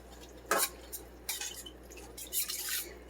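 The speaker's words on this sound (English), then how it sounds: "go ahead and give that another mix" Metal utensil clinking and scraping against a pot of stuffed pepper mixture in a few short bursts, fairly quiet, with no talking.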